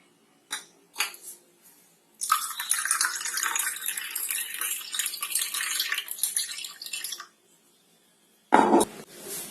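Tender coconut water pours steadily for about five seconds into a vessel for a homemade sherbet, a bright close splashing preceded by a few light clinks and followed by a short knock.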